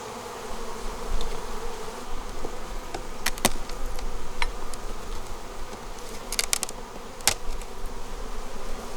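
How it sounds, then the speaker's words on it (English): Honeybees hum thickly inside an opened, strong hive, a close continuous buzzing with individual bees zipping past the ear now and then. "That's a lot of bees."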